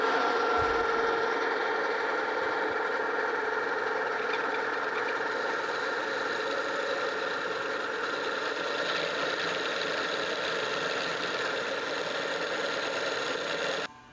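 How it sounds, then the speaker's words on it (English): Horizontal boring mill parting off a lever detent pin: a steady mid-pitched machine drone with faint rattling runs evenly throughout, then cuts off abruptly at the very end. "And we're going to part it off."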